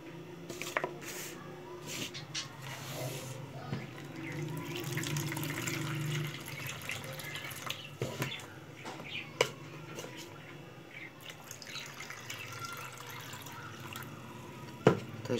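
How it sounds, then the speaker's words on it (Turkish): Lukewarm water trickles and splashes softly into a bowl of flour, sugar and baking powder mixed for a village-style bread dough, a faint, steady liquid pour with occasional light knocks and drips. "Toz şekerimi koyduktan sonra şöyle ılık suyumu koyuyorum."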